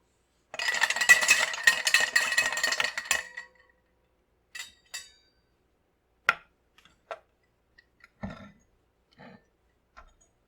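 Clinking bursts from stirring a cocktail with a dash of Angostura, a busy run of ice and spoon rattles up front, then sparse light ticks and clinks trailing off, close and alone.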